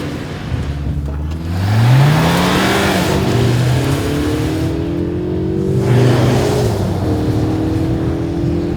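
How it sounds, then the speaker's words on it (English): A Mercedes CLE 300 coupé with a 2-liter four-cylinder engine accelerates hard in sport mode, its loud, close engine note rising in pitch through gear changes, with a brief dip between shifts and a steady climbing growl. "then it gives some growl from that engine"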